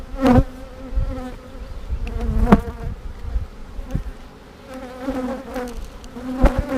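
Honey bees from an opened hive during a colony split inspection, frames of brood exposed, buzz steadily and close, with louder individual bees swelling past now and then; no one speaks.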